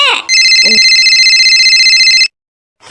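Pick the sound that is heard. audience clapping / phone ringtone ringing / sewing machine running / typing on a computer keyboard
phone ringtone ringing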